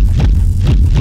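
A brief burst of a heavily distorted, buzzy synth tone in Phase Plant, loud and dense with a wobbling low end.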